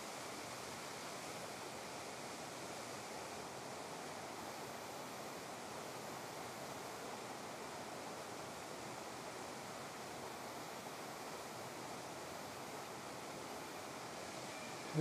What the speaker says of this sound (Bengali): এই যে ওয়াটারফলের জলটা আসছে